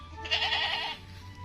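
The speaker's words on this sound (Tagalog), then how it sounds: "ito yung kambing nila na imported" An imported goat on a goat farm gives one short, wavering bleat of about a second over low background hum, moderately near.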